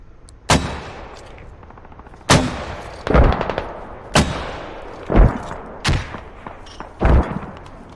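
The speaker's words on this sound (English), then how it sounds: "Watch out, mortars." Mortar impacts and gunfire in the military shooter Squad: about seven heavy, booming blasts spaced a second or two apart, each with a rolling tail, some loud and close, others slightly softer.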